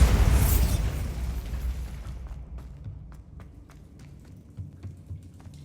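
A single loud blast from the Bombarda spell in Hogwarts Legacy opens with a booming burst, then decays into a quieter tail with scattered small taps and debris clicks.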